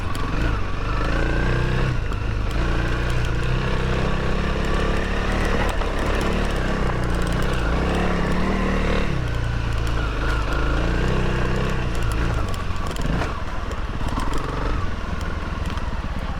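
Honda CRF300L motorcycle engine running steadily on an Ozarks dirt trail, a continuous loud drone whose pitch rises and falls with throttle changes throughout.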